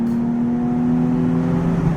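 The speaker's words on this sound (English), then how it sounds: "second gear, slowly just revving it all the way up" A Nissan 370Z Nismo engine revs steadily and loudly in second gear with a droning, rising tone, the motor close by and continuous throughout.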